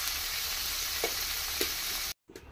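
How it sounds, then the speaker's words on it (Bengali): Tengra fish fry in hot oil with a steady, loud sizzle and a couple of soft stirring scrapes, until the sound cuts off abruptly near the end. "এরকম লালচে রঙে ভেজে নেব আমি মাছটাকে।"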